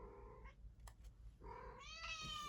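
A house cat yowling loudly and insistently up close, a drawn-out cry, a brief pause, then two more strained, rising meows.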